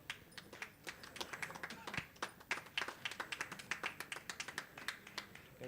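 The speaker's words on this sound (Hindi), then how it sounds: "आप लोग जोरदार तालियां बजावें।" Audience clapping at an award ceremony in India, a run of sharp, uneven hand claps from a modest crowd, fairly faint and quickening into a loose patter.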